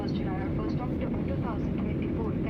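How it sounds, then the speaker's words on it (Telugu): Steady low roar of an airliner flying above the clouds, a continuous engine and cabin rumble heard from inside the plane throughout, with faint voices and chatter under it. "అసలు చాలా ఎత్తులోనికి ఈ ఫ్లైట్ ఎగురుతుంది"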